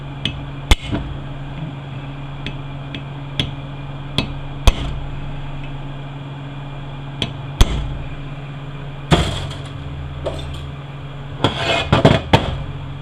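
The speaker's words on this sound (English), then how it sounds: "And we're going to stake our bushing in." Sharp metal hammer strikes stake a bushing into a 62TE transmission case, single spaced blows at first, then a quick cluster of taps near the end, loud against a steady low hum.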